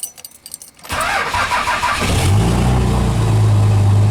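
A cold Dodge truck engine cranks in a few quick bursts, catches, and settles into a loud, rough, uneven idle that steadies into a deep continuous rumble close by.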